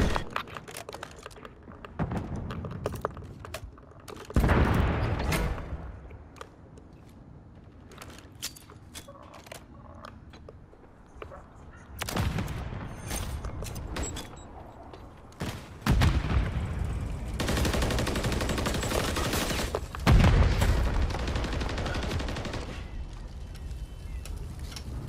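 Gunfire from the shooter game Call of Duty MW3 sounds in several loud bursts of rapid shots between quieter stretches, with sharp clicks and clatter throughout.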